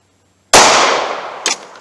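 A single sharp, loud pistol shot of 9mm +P Hornady Critical Duty, fired over a chronograph outdoors, cracks after a moment of silence, rings out with a decaying tail and is followed by a brief metallic clink.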